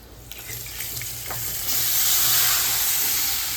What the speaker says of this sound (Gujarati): એ પાણી નાખવાનું છે